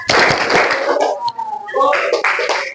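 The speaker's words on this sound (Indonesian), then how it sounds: "Tepuk fokus" A classroom of students performs a rhythmic focus clap, bursts of group clapping in a patterned sequence mixed with voices chanting along, loud and close, with a brief lull in the middle.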